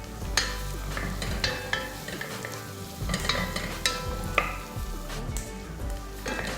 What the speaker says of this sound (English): and of course some ginger, I'm just going to saute this for a while